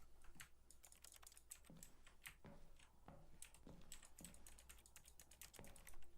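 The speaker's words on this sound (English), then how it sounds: "I'm just typing on my keyboard now." Steady typing on a computer keyboard during a Stanley Parable playthrough, a close run of irregular key clicks and taps lasting several seconds, with no talk over it.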